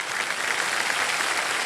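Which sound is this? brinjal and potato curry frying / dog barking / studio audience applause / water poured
studio audience applause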